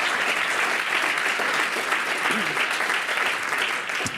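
Sustained applause from an audience at an annual research fund awards ceremony, a dense, steady wash of many hands clapping at even loudness throughout, with no clear voices above it.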